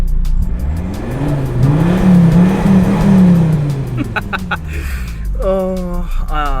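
A car with its exhaust back box deleted revs loudly nearby, its engine note rising and falling in one long swell, followed by shorter sharp blips, with a voice speaking over part of it.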